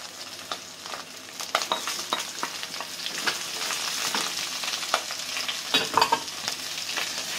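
Carrot and browned chicken sizzle in a pan for pancit, with repeated scraping stirs of a utensil throughout, steady frying hiss underneath, close and fairly loud, no talking.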